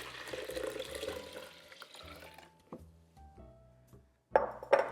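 Four cups of water pour over old-fashioned rolled oats for homemade oat milk, a loud continuous splashing that stops after about two seconds, followed by a few soft clinks and knocks.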